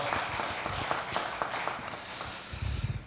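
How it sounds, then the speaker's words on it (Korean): Sunday worship congregation at a church clapping together to give glory to God at the last service of the year, a moderate steady patter of hands with a few heavier low thumps mixed in. "박수로 하나님께 영광 돌려드리겠습니다."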